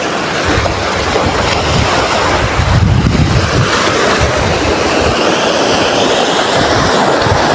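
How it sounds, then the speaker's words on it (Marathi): Rough sea waves surge against the Konkan shore, a loud, continuous wash of surf mixed with heavy wind buffeting the microphone, no voices heard. "हा बघा पाणी बघा, दर्या बघा खवाललाय पूर्ण"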